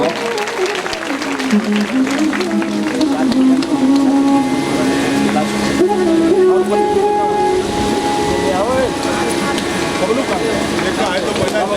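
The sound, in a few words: applause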